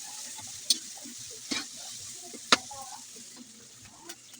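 Garlic and onion stirred in a hot pan for pakbet, a steady low sizzle with soft stirring scrapes and a few sharp clinks of a utensil against the pan.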